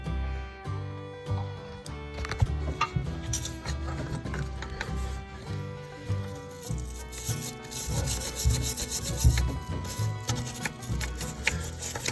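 A wire brush scrubs metal to clean it before welding on a brush guard repair, giving steady rasping strokes, close and continuous, with a faint background hum and no talking.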